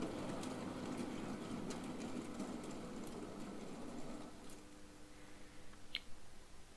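A modified, weathered Hornby B1 model locomotive hauling a pickup goods train around a model railway layout, giving a soft continuous motor hum with faint rail clicks that fades toward the end, ending in a brief sharp tick.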